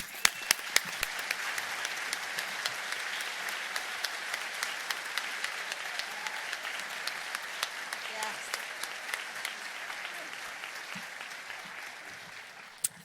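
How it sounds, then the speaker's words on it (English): Theatre audience and cast applauding the patrons at a Windsor Light Music Theatre performance of Mary Poppins: sustained, dense clapping from a large crowd that holds steady for over twelve seconds, with occasional sharper individual claps standing out before it tapers slightly at the end. "would you please stand and accept the applause of our cast, our crew, and your fellow audience members"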